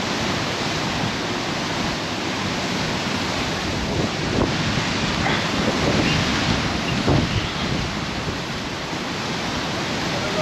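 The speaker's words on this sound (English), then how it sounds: "They are really mountainous waves out there." Large ocean waves crash and surge along the shore at Playa de Palma, Mallorca, a continuous roaring wash with swelling peaks, mixed with loud wind buffeting the microphone.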